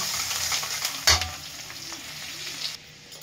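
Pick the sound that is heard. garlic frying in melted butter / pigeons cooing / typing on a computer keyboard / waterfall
garlic frying in melted butter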